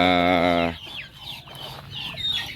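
A barako rooster crows loudly up close, a long harmonic call, followed by softer clucking and scattered chatter of fowl.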